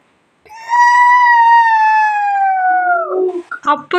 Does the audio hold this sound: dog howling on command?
yes